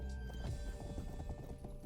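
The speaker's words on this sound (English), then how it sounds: "This is the random horse that we just summoned." A horse in a video game clip-clops along in a steady, quick rhythm of hoofbeats, close and fairly full, with a faint musical tone behind.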